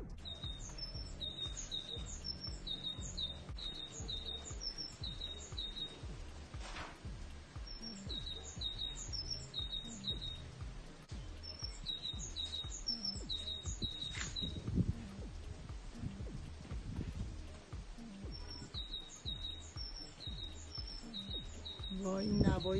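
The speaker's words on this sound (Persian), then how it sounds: "این نوای بلبل چقدر زیباست." A nightingale sings in repeated bursts of high, quick trills and chirps, separated by short pauses, over a steady background of ambient noise.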